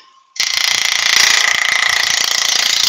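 A woodturning lathe switches on after a brief quiet moment and runs steadily, a loud, even mechanical whir with a fine rattling texture that holds constant to the end.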